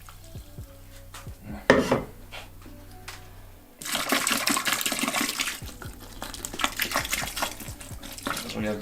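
Water poured and splashed into a mixing bowl to rinse out stuck carp-bait mix, a clatter of the bowl, then a sustained rushing, sloshing wash at close range.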